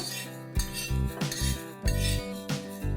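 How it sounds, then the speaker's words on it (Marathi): Whole spices, cloves, stone flower and shahjeera, are dry roasted in a pan for Varhadi chicken, stirred with a metal spoon that scrapes and clinks against the pan in a few close, distinct strokes. "हे साधारण 1 ते 2 मिनटं आपण ह्याचा फ्रेग्रन्स येईपर्यंत कोरडे भाजून घेऊया."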